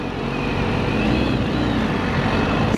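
A BMW S1000RR motorcycle engine roars loud and close without a break, its throttle rising slightly during a downshift. No one speaks.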